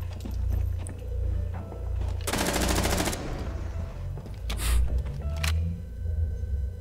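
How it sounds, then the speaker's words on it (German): Gunfire in the tactical shooter Rainbow Six Siege: a dense rapid burst of automatic fire lasting under a second, followed by a single sharp shot a moment later, loud and close among quieter in-game thuds. "Der macht einen Schuss."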